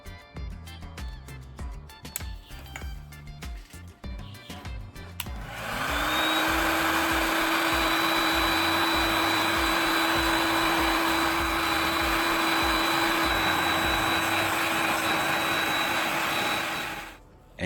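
A heat gun warms a plastic bottle piece to shrink it onto a hoe handle. After a few seconds of other noise it starts up with a loud, steady blowing roar and a constant whine, then cuts off at the end.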